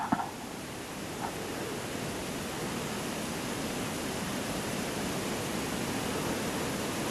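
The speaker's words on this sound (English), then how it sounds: "I don't think I get much with this wind. It's making a noise in the trees" Steady, broad rushing of wind through trees behind a care home in Jarrow, a soft continuous hiss with no voices, constant throughout.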